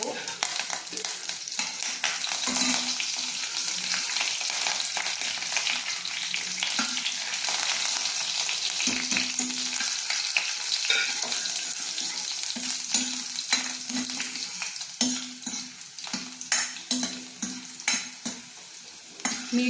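Garlic and curry leaves sizzling steadily in hot oil over a medium flame, with a spoon scraping and stirring in the pan at intervals, close and fairly quiet.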